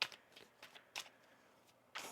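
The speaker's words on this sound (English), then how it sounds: "One more shuffle here." A deck of tarot cards is shuffled by hand, heard as several faint, quick riffling bursts spaced irregularly over a quiet background, close to the listener.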